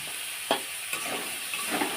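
Ginger and garlic paste sizzles in hot oil in a pan for a vegetable samosa filling, a steady close frying hiss with a few light stirring clicks, and no talking.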